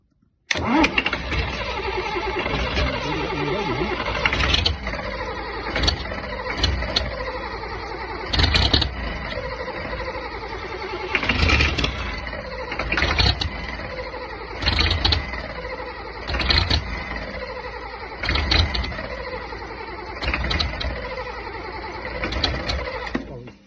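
A Land Rover diesel engine cranks repeatedly in uneven bursts, turning over again and again without settling into a steady idle, loud and close with no voices.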